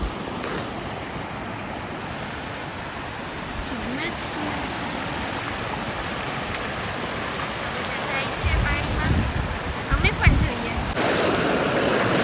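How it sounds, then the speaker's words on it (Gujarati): Water rushes through a dam among hills during heavy rain, a continuous broad roar. A few louder splashy surges come near the end, and people talk over it at times. "પાણી તો જો કેવું જાય."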